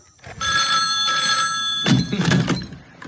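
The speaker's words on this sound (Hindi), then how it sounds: "ये तेरा मौसी का मोबाइल है जो यहाँ फोन करके परेशान कर रहा है।" Mobile phone ringing with a steady electronic ring tone over a couple of seconds, followed by a clatter and some rustling nearby.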